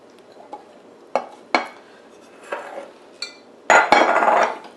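Carrots and potatoes are dropped into a crock pot as a series of separate close clunks and knocks spaced irregularly, with a final longer clattering tumble and no voices.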